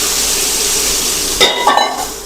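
Okra drops into hot oil already tempered with crackling mustard seeds, cumin, asafoetida and curry leaves. A steady close sizzle swells into a louder hiss and spatter as the okra goes in, and no one speaks.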